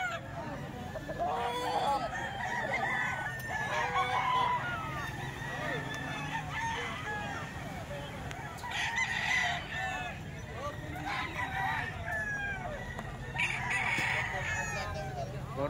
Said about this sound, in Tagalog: Manok ni Captain Totoy ito mga bossing